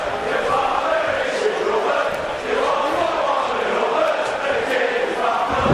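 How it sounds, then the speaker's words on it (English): A WWE 2K wrestling-game arena crowd chants in a steady, rhythmic roar that fills the whole stretch at a loud level, with no clear break. "The crowd is chanting, oh my God."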